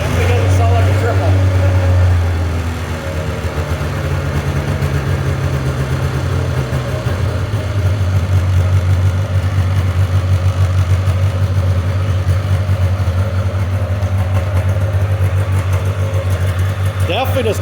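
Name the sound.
1996 Polaris Classic Touring snowmobile engine running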